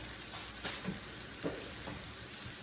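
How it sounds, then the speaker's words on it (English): Soft, steady sizzling of pork chops frying in a pan, with a few faint clinks and taps, fairly quiet and close. "And you can see there they are sizzling away."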